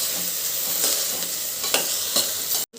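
Okra and onions stirred in a hot frying pan, a steady broadband sizzle broken by a few scraping spoon strokes, close and alone, with a brief dropout near the end.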